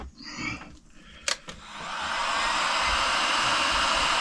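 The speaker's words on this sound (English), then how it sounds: "Gotta use heat guns for shrinking these things." A heat gun blows a steady, loud rushing hiss while shrinking heat-shrink tubing over battery leads for a LiFePO4 lithium marine battery, building from quieter handling noise with a couple of sharp clicks into a continuous roar.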